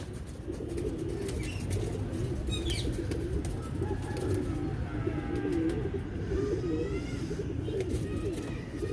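A flock of pigeons coos continuously in a low, murmuring chorus, with occasional chirps and wing flutters mixed into the steady background.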